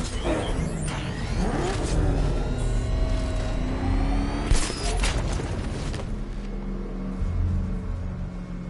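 Car engine revving and accelerating in Batman: Arkham Knight, a steady loud drone with rising and falling pitch, layered with game effects and a brief impact thump midway.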